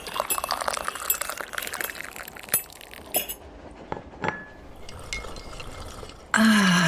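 Tea is served, with porcelain cups and glassware clinking in short bright ticks over a soft background, then a louder pour or hiss sets in near the end.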